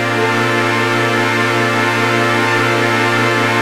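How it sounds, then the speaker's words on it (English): Ed Myrol digital synth VST holds a dense, buzzy chord pitch-shifted down five then up seven, a continuous loud drone with no pauses, alone and close. "Here's the same chord played at negative 5 shift and then at plus 7."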